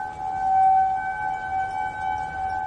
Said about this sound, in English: They are not tornado sirens, they are outdoor warning sirens.